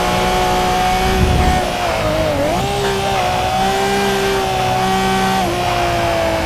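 A Nissan R34 GT-R with its 2.6-litre RB26 engine in Forza Motorsport, revving loudly and steadily with pitch rising and dipping through gear changes, a continuous close engine drone with no talk.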